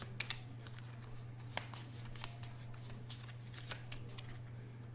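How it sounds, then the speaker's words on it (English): Quiet riffle shuffling of a deck of playing cards during a tabletop card game, a string of crisp flicking bursts and taps over a low steady hum, with no talking. "these must be her cards, dummy. Let me shuffle them up there."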